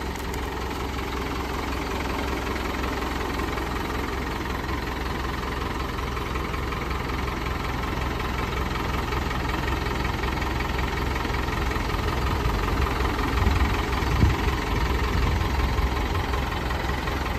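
Motorcycle engines idle steadily while warming up on a cold morning before a Christmas ride, making a continuous loud rumble with a faint knocking texture that holds throughout with no talking.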